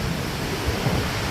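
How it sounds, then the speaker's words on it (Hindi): Heavy rain in a stormy wind, a dense continuous wash of noise with gusty rumble, loud and close, no voices. "इतनी बारिश भाई देखो।"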